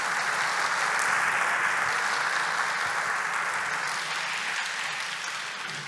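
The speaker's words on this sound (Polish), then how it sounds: "I teraz mogą być brawa" A large audience at an academic year inauguration ceremony gives sustained applause, a dense, even wash of clapping that fades slightly toward the end, with no voices over it.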